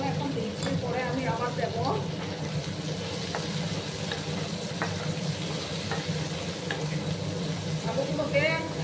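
Potatoes frying with onions and turmeric hiss steadily in a pan, with occasional scrapes and clicks of stirring and a brief splash of water, close and moderately loud, with a faint voice in the background.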